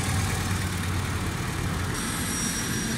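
A Suzuki Bolan EFI engine idles steadily after its faulty TP sensor has been replaced, a constant close low hum and rumble with no voices.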